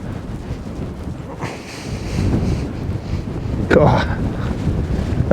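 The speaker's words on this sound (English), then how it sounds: "Oh, this wind is immense." Strong wind gusting outdoors during night cod fishing in snow, a broad steady roar buffeting the microphone with rises and a louder gust near the end, with a brief voice in the middle.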